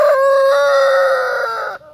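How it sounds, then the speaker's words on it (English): A pet rooster gives one loud, close crow, a single sustained harmonic call that swells, holds and then cuts off sharply, with nothing else heard. "You got a crow for us?"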